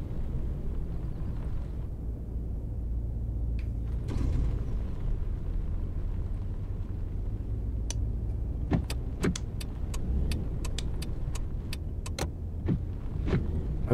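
Road traffic in the Taxi Life city driving game: a steady low car-engine rumble with clicking, ticking mechanical sounds scattered over the second half, no talking.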